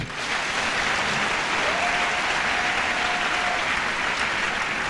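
A church congregation applauding, a loud, dense and continuous wash of clapping that holds steady throughout.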